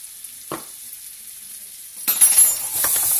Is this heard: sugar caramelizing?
yes